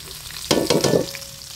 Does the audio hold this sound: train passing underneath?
no